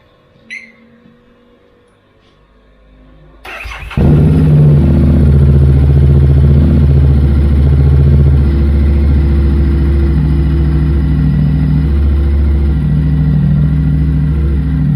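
A 2019 Harley-Davidson Street Rod fitted with a K&N high-flow air filter fires up after a quiet stretch and settles into a loud, steady, throbbing close-range idle that continues unbroken.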